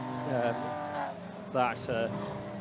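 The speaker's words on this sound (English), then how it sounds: "There's the Intelligent Money Porsche. You can just see going through the front of shot now." A pink and blue Porsche race car with a 2-litre engine passes on the Oulton Park circuit during a club endurance race, its engine note rising and fading in bursts under continuous commentary.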